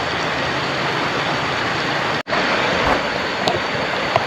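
Steady rain falls at a riverside campsite, a dense continuous hiss mixed with flowing water, broken by one brief dropout and a few small taps near the end.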